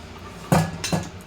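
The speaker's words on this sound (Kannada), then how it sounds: "ಈಗ ನಾನು ವಿಷಲ್ನ ತೆಗೆದ್ಬಿಟ್ಟು ಕುಕ್ಕರ್ ಮುಚ್ಚಳ ಓಪನ್ ಮಾಡ್ತಾ" A whistle is lifted off a pressure cooker and its metal lid is opened after cooking tomato bath: two sharp, close metallic clanks about half a second apart over a quiet room, with no talking.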